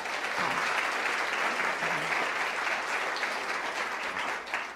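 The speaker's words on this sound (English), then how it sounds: "Can we give them a round of applause?" An audience at a neighborhood summit keynote claps in sustained, fairly distant applause that fades slightly toward the end.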